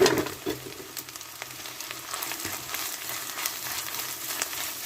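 Onion, ginger and garlic paste, pounded in a mortar, frying in a pan for a potato curry, a continuous crackling sizzle with scattered spatters and stirring scrapes, moderately quiet and without speech.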